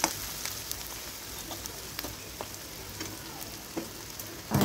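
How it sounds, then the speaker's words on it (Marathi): Onion sautés in a pan until reddish for a dry sprouted matki dish, giving a steady, moderate sizzle broken by occasional soft stirring scrapes and taps. "सर्वात अगोदर अशा प्रकारे मी कांदा टाकून घेऊन छान लालसर रंग येऊपर्यंत भाजून घेणार आहे।"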